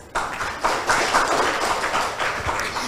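Audience at a school debate between Eskola Kolejiu Sao Miguel Arcanjo and Eskola An-Nur gives a round of applause, steady mid-level clapping from a crowd filling the room throughout.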